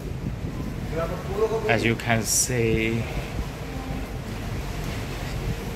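Steady wind and engine drone from a ferry travelling at sea toward Singapore, a broad continuous rumble with wind noise on the microphone while someone talks over it.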